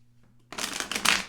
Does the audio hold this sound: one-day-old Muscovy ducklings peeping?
no